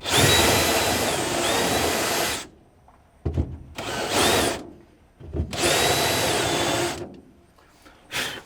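A powered drill or auger boring into wetland soil during field work, running loud and steady in two long bursts with short quieter gaps and clattering handling noise between them.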